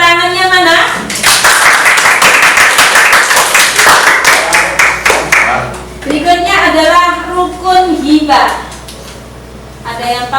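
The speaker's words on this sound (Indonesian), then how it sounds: "tepuk tangannya mana?" Classroom applause during a fiqh lesson, a loud close burst of clapping hands for a few seconds, followed by children speaking and calling out in the room.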